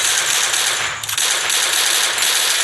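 Gunfire in the Free Fire mobile video game, a dense, hissing rapid-fire burst that runs almost unbroken, with a brief dip and a couple of clicks near the middle and no talking.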